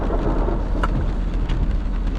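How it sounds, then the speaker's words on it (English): Steady heavy rain drumming through a thunderstorm at night along a drive near Monroe, Louisiana, with low rumbling thunder rolling underneath and a few brief sharper crackles standing out, loud and continuous throughout. "Man, that's some serious lightning."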